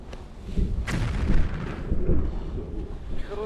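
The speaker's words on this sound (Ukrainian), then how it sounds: "Постріл." A deep, rumbling boom of distant artillery rolls on and echoes for several seconds, heavy and low.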